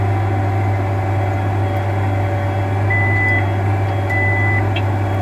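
Two short electronic beeps from an Ag Leader InCommand 1200 implement switch monitor sound over a steady low machine hum and engine drone in a tractor cab; no one speaks.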